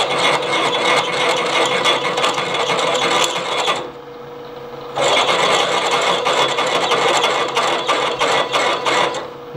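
Drill cutting out the threads of a broken stud in an oil housing, a harsh, continuous grinding chatter that runs loud and steady, breaks off for about a second, then resumes just as rough.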